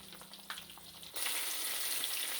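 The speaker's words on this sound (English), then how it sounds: "we're going to let this fry till it gets browned, and then we will turn it over" Catfish fries in a pan at home. After a quiet moment with faint clicks, a loud, steady oil sizzle suddenly erupts and continues.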